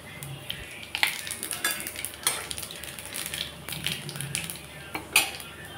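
Crushed garlic and black cumin seeds tempering in hot oil, a soft sizzle under repeated metallic scrapes and clinks of a spoon stirring against the pan, close by.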